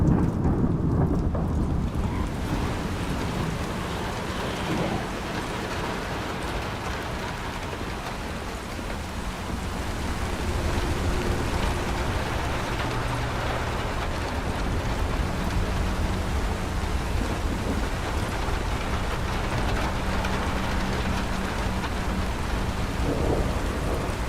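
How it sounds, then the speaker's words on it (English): Rain and rumbling thunder fill a horror game scene with raindrops hitting scattered vehicles, a dense continuous downpour under a low, heavy rumble, loud and enveloping with no voices. "if I make it start raining, you'll start to hear raindrops on the various vehicles scattered throughout the space"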